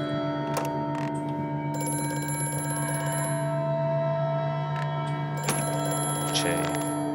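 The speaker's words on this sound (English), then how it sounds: "I hate phones." A telephone rings with a steady electronic tone inside the horror game Amnesia: A Machine for Pigs, sustained over droning game ambience with a few sharp clicks and bursts mixed in.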